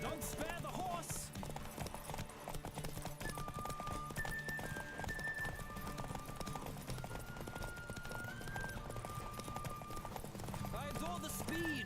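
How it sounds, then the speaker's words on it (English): Horse hooves clip-clopping at a steady gallop in The Witcher 3, with occasional whinnies, loud and continuous under game music and a voice talking. "Don't spare the horse!"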